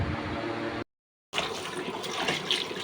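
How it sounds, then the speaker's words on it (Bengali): Malabar spinach leaves being washed in water at home: two bursts of splashing, running water, separated by a brief silence, fairly close and with no talking. "পুঁই শাকটা ভালো করে ধুয়ে নিতেছি"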